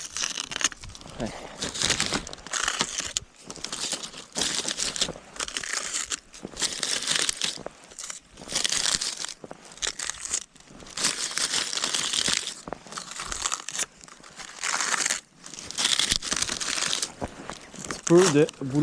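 Papery birch bark being peeled and crumpled by hand outdoors in winter, gathered from a dead tree as fire starter, giving repeated close crinkling and tearing bursts in an irregular rhythm over about nineteen seconds.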